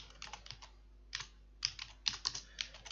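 Keys on a computer keyboard clatter in short, irregular bursts with pauses between them, close and moderately loud while someone enters text in a resource table of ProjectLibre project-planning software.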